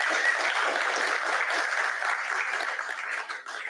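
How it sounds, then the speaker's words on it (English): Audience applause after a talk on Alabama everyday architecture, a dense, even round of clapping from a room of people, sustained for a few seconds before tapering slightly. "So another round of applause for our speaker, Christy Anderson."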